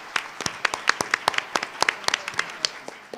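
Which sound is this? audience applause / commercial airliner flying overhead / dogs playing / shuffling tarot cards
audience applause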